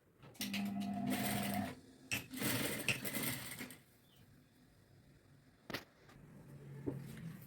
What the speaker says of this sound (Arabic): دابا بقى لينا غادي نخيطوا الاكمام على هذه الطريقه هذه.